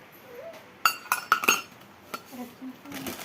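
Steel bowls and utensils clink and clatter close by in a burst of sharp metallic knocks, then a few lighter taps follow over a quiet room.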